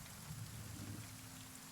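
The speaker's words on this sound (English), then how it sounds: "and then walks through the rain towards the mists." Steady rain falls in a dense, even hiss of droplets, a continuous soft wash with no voices.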